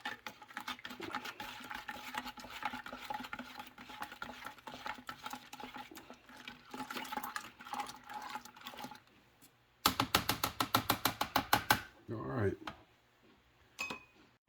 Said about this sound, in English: Now we're just going to stir all that up.